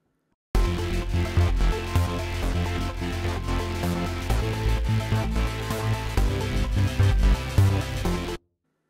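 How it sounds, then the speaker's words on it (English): A rhythmic, pulsing electronic bassline throbs steadily under a full synth arrangement, loud and continuous for several seconds. "we're going to look at creating a pulsing synth bass"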